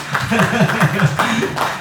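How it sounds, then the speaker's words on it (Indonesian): Brief audience applause at a health promotion staff training event, scattered clapping blended with a voice talking over it. "Tepuk tangan dong buat mereka"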